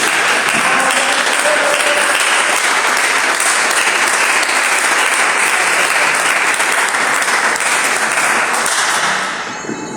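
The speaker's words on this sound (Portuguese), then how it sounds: "dê uma salva de palmas bem alegre para Jesus" A church congregation claps joyfully for Jesus, dense sustained applause filling the room for about nine seconds before tapering off at the end.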